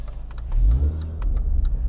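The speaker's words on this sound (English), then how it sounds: "What I loved about these first gen Minis is they popped and burbled on their own." A first-generation R53 Mini Cooper exhaust rumbles low and close, with a swell of throaty revving in the middle and scattered crackling pops over the burble.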